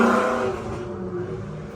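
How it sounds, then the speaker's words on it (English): A car revs nearby, its engine note strong at first and then easing off into a fading whir over a couple of seconds, with no talking. "That car sounds pretty awesome."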